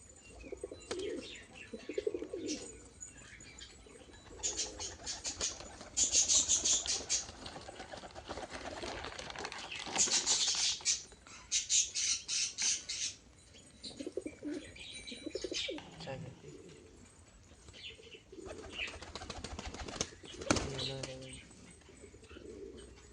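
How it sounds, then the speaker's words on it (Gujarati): Pigeons coo and flutter nearby, eating grain, with bursts of wing flapping and soft pecking sounds, while a person talks intermittently in the background. "જો મિત્રો આ ડાળિયા ખાવા કબૂતર આવી ગયા છે"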